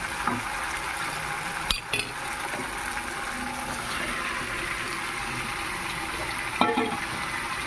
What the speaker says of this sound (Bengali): এবার আমি সিদ্ধ করে রাখা এঁচড় দিয়ে দেবো